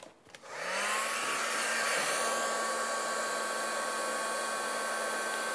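A handheld heat embossing tool blows hot air over embossing powder on a craft card. It spins up within a second to a loud, steady whooshing roar with a high whine that holds evenly to the end.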